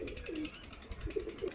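Old local breeder pigeons coo softly at close range, a few low rolling coos repeating in a quiet loft.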